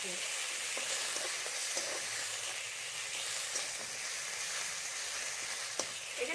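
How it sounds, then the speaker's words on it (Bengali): Ginger lightly frying in oil gives a soft, steady sizzle, quiet and close, broken by a few faint taps of stirring. "এখানে কিন্তু আদাটাকে হালকা ভেজে দিচ্ছি"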